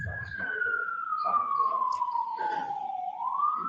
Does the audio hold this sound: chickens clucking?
no